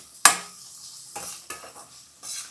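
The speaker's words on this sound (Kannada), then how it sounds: "ಇದು ಚೆನ್ನಾಗಿ ಒಂದು ಗೋರಾಡ್ರಿ" Spoon stirring salt into a tomato rice mixture in a pan, starting with a sharp metallic scrape and followed by several softer scraping strokes against the pan.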